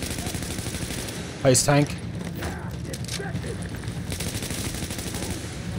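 Brief burst of rapid gunfire from The Division, a third-person cover-based shooter, around the halfway mark, surrounded by steady game ambience and a person talking.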